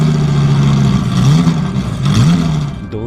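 A motorbike engine revs and pulls away as a sound effect in an animated horror story, a loud, close, continuous drone that rises and wavers in pitch over a few seconds.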